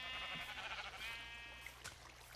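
Sheep on a Minecraft sheep farm bleat in overlapping, wavering calls, loud and close at first and then thinning out, with a low steady hum underneath and no talk.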